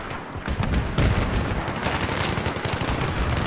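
Troops in Battlefield 3 fire bullets at an enemy tank: dense, rapid automatic gunfire rattles without stopping, loud and close, with heavier booming shots mixed through the steady barrage.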